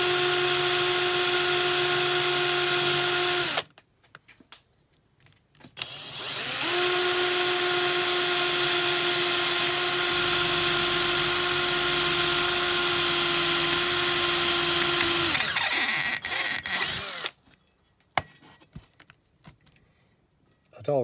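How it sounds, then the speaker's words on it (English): A power drill whines steadily in two long bursts, drilling holes in the posts of a Dinky No. 253 Daimler Ambulance diecast model, separated by a short pause, loud and close, with a brief rattle at the end. "we're just drilling the holes in these big posts"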